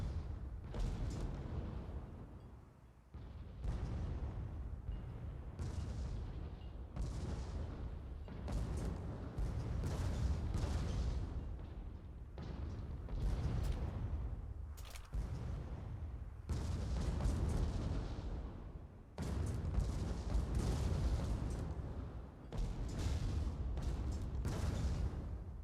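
Airship weapons fire back and forth in the Sky League video game, with repeated booming bursts and explosive thuds arriving in irregular clusters over a rumbling battle backdrop, moderately distant and sustained.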